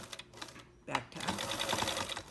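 A sewing machine back-tacking stitches while sewing a quilt block: a quiet, rapid mechanical stitching rattle that starts after a brief pause and runs steadily to the end, close by.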